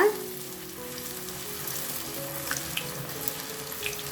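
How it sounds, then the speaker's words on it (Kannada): Sabudana puris dropped into hot oil set up a steady, close frying sizzle that bubbles on throughout, with a few faint clinks over it and no talking. "ಎಣ್ಣೆ ತುಂಬ ಚೆನ್ನಾಗಿ ಬಿಸಿಯಾಗಿದೆ ಸೊ ಇವಾಗ ನೋಡಿ ನಾವು ಮಾಡ್ಕೊಂಡಿರೋಂಥ ಪುರಿನ ಹಾಕೊಳ್ಳೋಣ"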